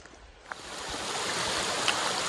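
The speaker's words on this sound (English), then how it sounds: "We probably crossed 50, 60 of these type of water crossings." Stream water rushes steadily over a trail water crossing on the Ozark Highlands Trail, a close, continuous broadband wash that swells slightly after the first half second.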